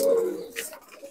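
Malwai pigeons coo nearby, one low throaty coo followed by softer, fainter call fragments, with no voices.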